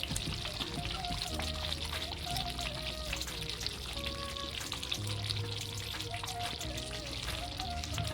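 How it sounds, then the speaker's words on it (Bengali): Fresh cream pours onto a simmering egg tikka gravy for Afghani malai egg tikka, a soft continuous pouring and gentle sizzle heard close, with a faint clink of utensils. "এর উপর দিয়ে আমি একটু ফ্রেশ ক্রিম দিয়ে দেবো।"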